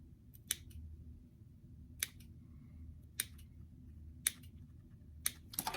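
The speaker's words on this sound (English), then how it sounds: "go ahead and clip in towards that seam on the curved edge of the hip" Scissors clip into a curved fabric seam along the hip edge and around a pocket: about six crisp, close snips spaced roughly a second apart over a low steady hum, with no talking.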